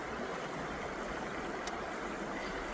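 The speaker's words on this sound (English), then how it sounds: "I'm just hanging out here at a little waterfall" A small outdoor waterfall gives off a constant, even rush of falling water. It is soft and unbroken for the whole stretch, with no voices.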